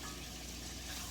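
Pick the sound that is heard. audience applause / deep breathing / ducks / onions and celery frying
onions and celery frying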